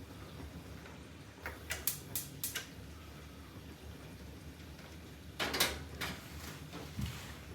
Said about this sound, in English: I'm going to check the ignition on the grill